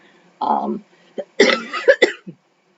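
A few short, harsh coughs and throat-clearing bursts from someone recovering from a cold, close up, separated by brief pauses.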